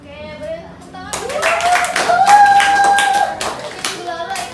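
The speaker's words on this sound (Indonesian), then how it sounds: "Oke, boleh tepuk tangan." Pupils in a sociology classroom clap their hands together at the teacher's prompt, a burst of many overlapping claps lasting a few seconds with a voice and talk mixed in.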